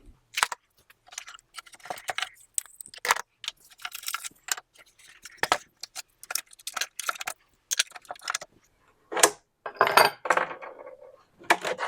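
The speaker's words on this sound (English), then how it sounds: "So we can take these clamps off." Metal clamps being loosened and lifted off a glued Philco 60B radio cabinet: scattered sharp metallic clinks and rattles, close and fairly loud, in irregular bursts with short pauses, no talk.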